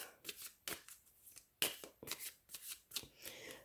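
A deck of cards is shuffled for a tarot-style reading, with several crisp riffles and flicks coming in bursts, close and fairly quiet, with no talking.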